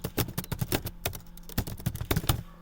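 Someone types on a computer keyboard while writing C# code, with rapid, uneven clicks and clacks of keys, close and crisp, in quick bursts without speech.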